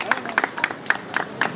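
Congregation in a Brazilian evangelical church service giving a round of applause for Christ, steady rhythmic clapping in unison close by, with a faint voice underneath.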